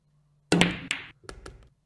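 Virtual Pool 4 nine-ball match: a sharp ball-on-ball knock followed by a second clack as the cannon sends the 9 home, then a few lighter taps as the balls settle, close and clear with no talk.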